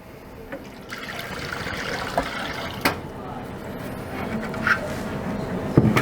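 Water pours and splashes steadily into a water ice machine, a continuous liquid rush with a few brief knocks, under light background noise.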